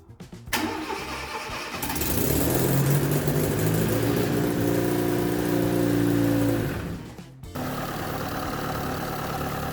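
A car engine cranks and fires up after fresh fluid is added, settling into a loud, steady running idle for several seconds before cutting off abruptly; no one talks.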